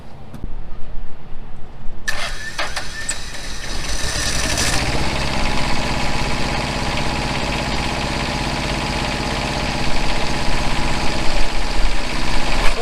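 A generator engine mounted on a flatbed truck cranks and catches at about two seconds, then settles into a loud, steady running drone that swells slightly near the end, with no talking.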